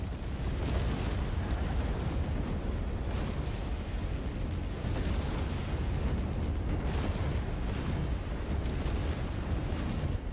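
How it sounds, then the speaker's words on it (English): Missile explosions rumble continuously in MechWarrior 5, a dense, loud wash of booming blasts and low roar that keeps up for the whole stretch with periodic sharper bursts. "Incoming missile."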